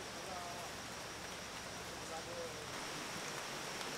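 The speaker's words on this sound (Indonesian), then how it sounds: "Hujan masih turun." Steady, soft hiss of rain falling continuously at night, even and unbroken, with no voices.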